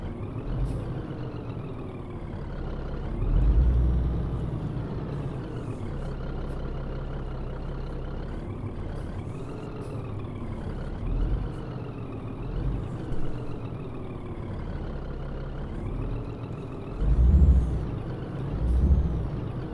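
A Scania truck engine drones steadily while driving in a truck simulator game, its pitch rising and falling with gear changes, broken by several loud hissing bursts from the air brakes.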